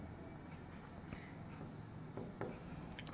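Chalk or marker writing on a board during a Class 12 chemistry lesson: soft scratchy strokes in short bursts over faint room hiss.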